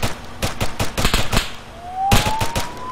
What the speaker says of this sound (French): tirez sur les pneus, tirez sur les pneus